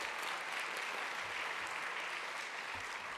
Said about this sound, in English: A round of applause to Stephanie again.